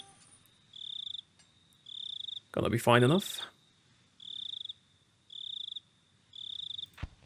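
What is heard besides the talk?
crickets chirping in video game SpellForce: Order of Dawn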